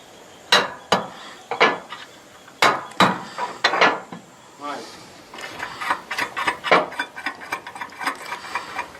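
Metal clicks and ratcheting taps from a bolt being tightened on a rail mounted on a roof for a 5.2 kWp solar panel kit. The sharp, irregular mechanical bursts come close, then settle into a faster run of small clicks, with no talk.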